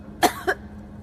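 A woman coughs twice, close and sharp, in a dusty basement, with two short harsh bursts and a quiet pause between them.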